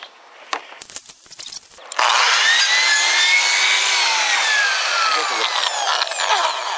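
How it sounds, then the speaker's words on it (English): A few faint scrapes and taps, then a power drill bites into an aluminum roof with a loud, sustained high-pitched grinding whine that stays close and steady. "I guess it would help if I ran the drill the right direction."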